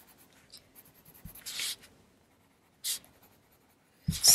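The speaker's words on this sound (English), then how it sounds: "I could color the tassels first and then shade the fabric or the whole curtain all in one go" A pencil coloring and shading a drawing on paper, heard as a few short, close scratchy strokes separated by quiet pauses, with no talking.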